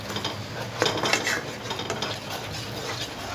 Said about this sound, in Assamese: বাটাৰখিনি দি দিলোঁ এতিয়া মই এনেকৈ লৰাই দিম